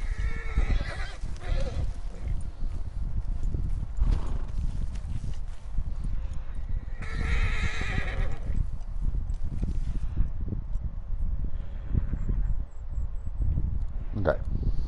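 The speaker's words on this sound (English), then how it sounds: "And of course you gotta have something that spooks your horse." A spooked horse in the Red Dead Redemption 2 online game whinnies loudly in a couple of sharp bursts amid clip-clopping hooves and rustling, with someone talking over much of it.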